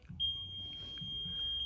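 An alarm clock's high electronic tone holds steady and fairly faint over a low background rumble, with no voices.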